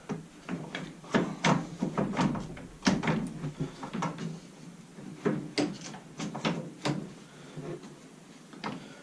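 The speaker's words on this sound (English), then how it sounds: "Now these should just slide right off the hinge." Series of close scraping, clunking and knocking sounds as a barn door slides off its hinge, irregular bursts of metal and wood moving, with no talking.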